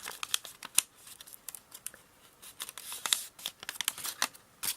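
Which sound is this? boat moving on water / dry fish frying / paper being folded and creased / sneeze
paper being folded and creased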